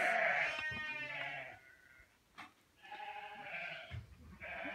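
Sheep bleat on a farm as the flock is brought in to the fold early. Several loud, wavering calls come close together, with a short quiet gap in the middle before more bleats follow.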